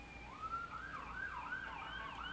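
An ambulance siren wails in a video game, a rising and falling electronic tone heard alone at moderate distance for a couple of seconds.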